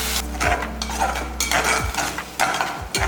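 Tomato paste goes into a frying pan for a vegetable kurma and is stirred, with repeated scraping and clattering of a utensil against the pan over a soft, steady sizzle.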